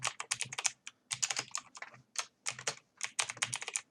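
Rapid, close typing on a computer keyboard as a password is entered for a school online system login, bursts of crisp keystrokes separated by brief pauses.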